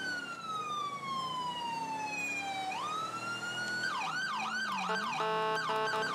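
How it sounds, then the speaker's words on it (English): A police car siren in the video game GTA 5 switches on during a Code 3 emergency call, wailing in long sweeping tones, then shifting to a rapid yelp, loud and continuous over a steady engine hum. "I'm gonna go light the sirens."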